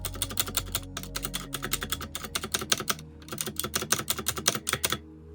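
A rattly custom mechanical keyboard, fast close typing with clustered clacks and repeated spacebar presses that give a loose, rattling clatter, no voices.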